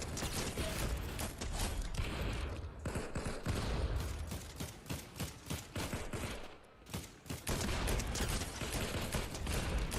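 Rapid gunfire in a video game. Dense bursts of automatic shots follow one another, loud and close, with a few short pauses between volleys.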